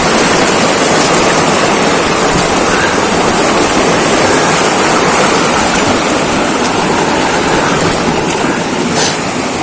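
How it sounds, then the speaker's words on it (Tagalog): A strong river current rushing over rocks, a loud, constant broadband roar of churning water that stays close and unbroken the whole time. "Ay, lakas ng agos, oh."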